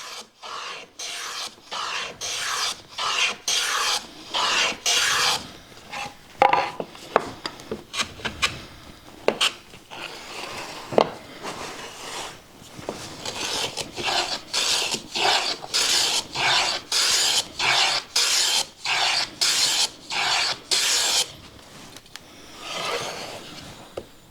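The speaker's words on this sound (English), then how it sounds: "use a block plane just to cut not only a little decorative chamfer all the way around, but also just something to soften that edge" A block plane cutting a decorative chamfer along the edge of a wooden bench hook, heard as a steady series of short, close rasping strokes with brief gaps between passes.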